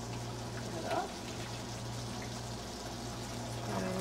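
Chickpeas are added to a simmering kofta and channa curry, with a soft pouring, splashing rush of liquid and bubbling over a low hum, close by and steady.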